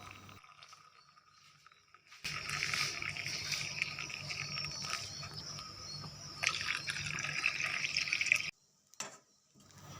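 Milk sweetened with sugar being poured back and forth between vessels to cool it, a steady splashing, trickling stream close by that runs for several seconds, briefly swells louder, then stops abruptly.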